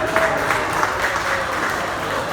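An audience at a press conference for a running event bursts into steady, dense applause that holds for a couple of seconds without a break.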